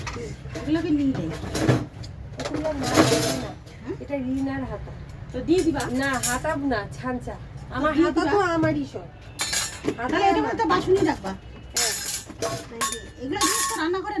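Metal ladles and spoons clinking together as they are handled in a home kitchen, repeated bright clatters scattered among frequent conversation between people nearby.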